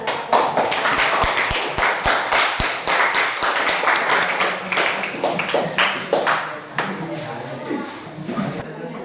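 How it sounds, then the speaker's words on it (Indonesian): Classmates clap for a group returning to their seats after presenting in a science lesson, sharp individual claps building into irregular applause, with voices chattering over it as the clapping thins toward the end. "Kita beri tepuk tangan"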